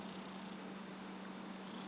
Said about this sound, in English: Oh, purr, purr, purr, purr, purr.